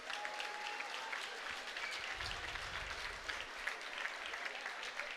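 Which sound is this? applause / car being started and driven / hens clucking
applause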